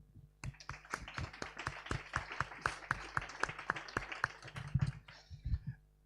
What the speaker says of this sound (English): Quick round of applause, maybe